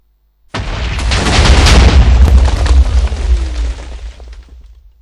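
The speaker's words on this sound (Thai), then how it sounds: "ศูนย์ระเบิดสิ" A loud, deep Minecraft explosion booms suddenly and rolls on for several seconds, slowly fading with a crackling tail.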